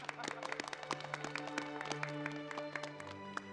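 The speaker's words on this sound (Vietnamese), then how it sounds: "Mọi người vỗ tay." A group of people in a Vietnamese anti-Japanese war action drama claps scattered, uneven hand claps at moderate distance over a few seconds, with voices and tonal background sound running underneath.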